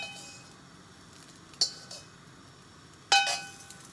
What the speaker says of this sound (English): So I'm just gonna put this into a little bowl because this we're gonna add back into the rice later.